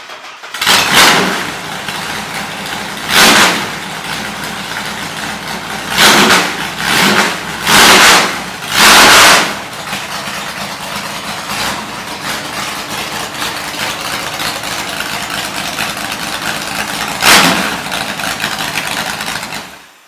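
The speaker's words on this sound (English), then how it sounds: "I had no idea that you could even make a 6-cylinder sound like this" A loud, lumpy inline six-cylinder drag car engine idles with a rough, choppy note, broken by several sharp throttle blips that rise and fall, most bunched early and one later on.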